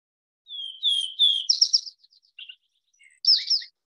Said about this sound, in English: this is what a vesper sparrow sounds like